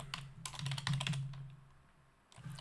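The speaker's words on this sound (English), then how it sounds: "So yeah, typing is not that easy." Rapid clusters of key presses on a computer keyboard while entering a command-line command, a quick burst of clicks followed by a pause and a few more taps, close and clear with a low hum beneath.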